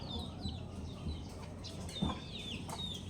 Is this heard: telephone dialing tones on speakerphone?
no